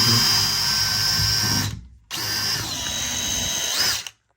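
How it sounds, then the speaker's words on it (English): A close, loud power drill runs in two bursts with a brief stop between, the motor pitch shifting as it bores a small fastener hole while installing a closet system. "I'm just going to drill a little hole here"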